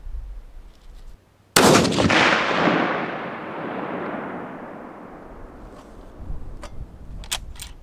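A single loud rifle shot while sighting in for long range cracks sharply at the start after quiet, then a long rolling echo fades over several seconds, followed by faint clicks.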